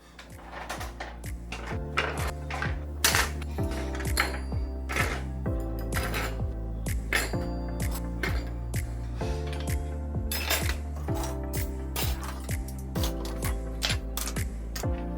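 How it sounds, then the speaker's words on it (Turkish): Metal forks and spoons clatter and jingle as they are lifted out of a kitchen drawer, with dense, continuous clinking and rattling close by, no voices. "Şu çekmeceden oradaki bütün çatal kaşıklar bir de buradaki bir sürü şey çıktı."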